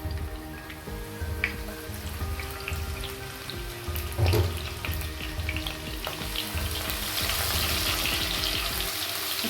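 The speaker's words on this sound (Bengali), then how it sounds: "পেঁয়াজটাকে একটু ভালোভাবে ভেজে নিব।" Chopped onions fry in a pan over high heat with a steady, dense sizzle and crackle that swells slightly toward the end, close and continuous with no talking.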